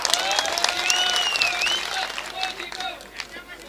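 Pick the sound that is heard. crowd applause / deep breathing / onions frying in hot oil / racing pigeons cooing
crowd applause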